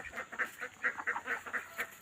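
Village ducks quacking near a field in a rural setting, a rapid run of repeated nasal honks and quacks, fairly close and steady, with no talking.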